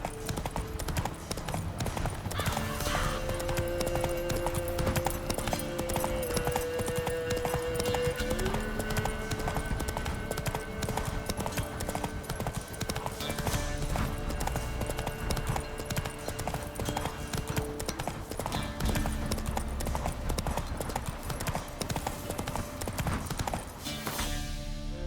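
Roach the horse gallops in The Witcher 3, a steady rapid clip-clop of hooves running the whole time over a dense bed of game music, with a brief whinny-like cry and a few soft spoken words.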